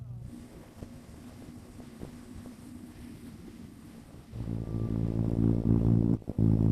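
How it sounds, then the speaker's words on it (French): Wind rushes over a Bajaj Dominar NS400Z motorcycle engine humming at a steady 130 km/h highway cruise, with the engine note swelling louder partway through. "on prend la route Cara, vitesse de croisière à 130 sans forcer la moto"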